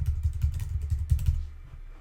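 Typing on a computer keyboard, a run of quick clicky keystrokes that stop after about a second and a half, close and fairly clear with no voices.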